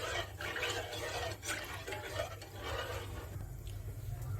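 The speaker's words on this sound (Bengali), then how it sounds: "এখন আমি অনবরত নাড়তে থাকবো" Agar agar and coconut water mixture stirred steadily in a pot on the stove, a continuous scraping swish over a low hum, with no talking.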